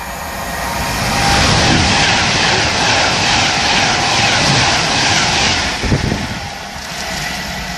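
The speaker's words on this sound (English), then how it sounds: "I've changed vantage point for Virgin Trains Pendolino service to Glasgow" Virgin Trains Pendolino passenger train bound for Glasgow rushes past at Acton Bridge, a loud broadband whoosh swelling and holding for several seconds, with a brief clattering thump near the end, wind buffeting throughout.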